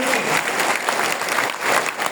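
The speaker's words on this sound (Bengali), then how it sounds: "ওয়েলকাম জানাই করতালির মাধ্যমে" A crowd claps steadily and fairly loudly for about two seconds, a dense, continuous patter of many hands.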